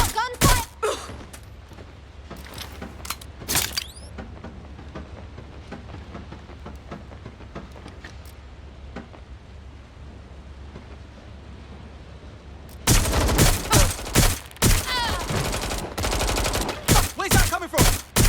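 Gunfire erupts in a gunfight in the video game Watch Dogs Legion: a few sharp shots open, a quieter stretch follows, then dense rapid bursts of automatic fire take over near the end.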